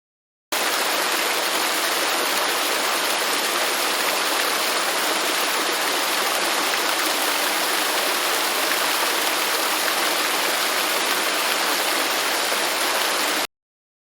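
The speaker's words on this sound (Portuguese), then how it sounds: "as cataratas são formadas por 275 quedas d'água no Rio Iguaçu" Iguaçu Falls on the Iguaçu River, a system of 275 waterfalls, produce a steady, dense roar of falling water, loud and unbroken throughout with no voices.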